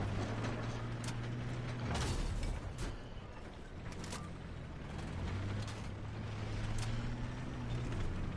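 A tank in Battlefield 4 rolls forward, its engine droning low and steady under clanking, ratcheting track mechanisms, with the engine pitch dipping briefly and then settling again.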